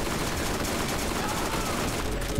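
Sniper rifle fire in Borderlands cracks amid a loud, continuous barrage of weapon noise that is dense and close throughout, with a player talking over it.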